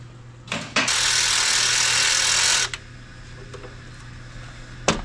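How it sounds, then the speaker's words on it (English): A power tool whirs in one loud two-second burst while loosening engine bolts to swap a pulley on a supercharged rat rod wrecker motor, framed by a few sharp clicks and clanks of tools. "We're gonna loosen these bolts and swap a pulley out."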